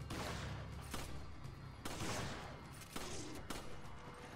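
Rapid gunfire in the co-op shooter Resident Evil 5, a string of fairly close, evenly spaced shots popping roughly once a second over steady game ambience, with no speech.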